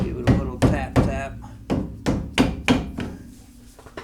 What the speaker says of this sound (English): You can tap it a little with the hammer. I'm going to use a dead blow.